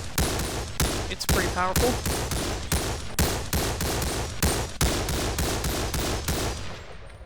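An M110 marksman rifle firing in the VR game BONELAB, a long run of loud, evenly spaced shots at a steady rapid pace, with a brief spoken remark mixed in near the start.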